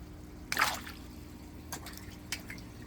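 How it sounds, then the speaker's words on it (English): Fish in an aquaponics tank splash at the surface while being fed, one wet splash followed by a few lighter drips and flicks of water, close by with no talk. "They're going to splash me, y'all."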